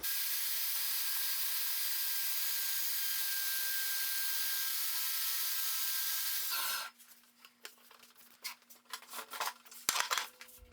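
A Ridgid table saw blade is slowly raised through a zero clearance throat plate, cutting with a loud, steady high whine that stops abruptly. Scattered clicks and light clatter follow as the blade winds down.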